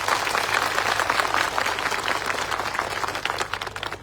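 A crowd at an outdoor Adivasi community public rally claps loudly, dense overlapping applause close and continuous, tapering slightly toward the end, with no speech over it.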